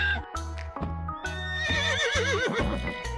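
A white horse neighs in a long, shaky whinny over a repeating plodding music beat, loud and close, with clip-clop hoof sounds.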